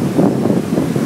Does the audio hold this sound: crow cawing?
no